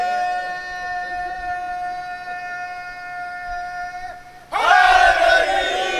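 A crowd at a Shia majlis bursts into a loud chanted religious slogan after a sustained held tone, the massed voices rising abruptly and filling the last seconds.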